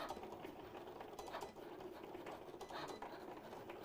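A Cricut Explore 3 cutting machine cuts out a paper flower at speed. Its faint, busy mechanical whirring and rapid ticking carriage movements run steadily throughout.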